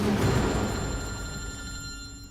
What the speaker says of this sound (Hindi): मयंक को फोन लगाओ।